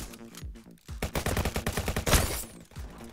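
Rapid gunfire from a shotgun and other guns in a first-person shooter video game, a quick rhythmic string of loud close shots with a heavier blast near the end, with no talking.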